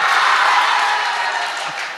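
A crowd at an all-India mushaira poetry recital in Phoolpur breaks into loud, dense applause that holds steady and then fades slightly toward the end, with faint crowd voices mixed in.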